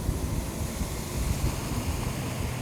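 An outboard motor boat coming down off plane on open water, heard as a steady, loud rush of wash and wind noise with a dull low rumble throughout and no talking.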